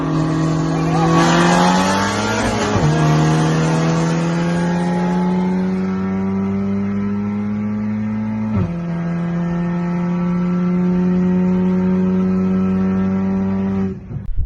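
Modified MK7 Golf GTI with manual transmission racing a Supra, Z06, Hellcat, M8 and C7: a loud, sustained engine drone climbing steadily through the gears, with sharp pitch drops at two shifts.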